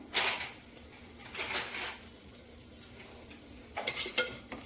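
Tempering spices sizzle in a pan while being stirred for mixed vegetable rice, with bursts of frying hiss and utensil scrapes coming in several short waves.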